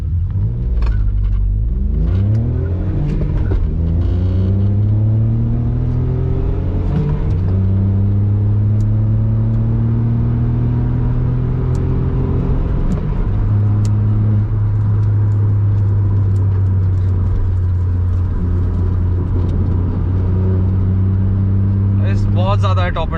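The Stage 3 turbo engine of a Volkswagen Polo GTI, which runs with no intercooler, drones loudly from inside the car, its pitch climbing and dropping through repeated pulls and gear changes, while people talk over the engine throughout.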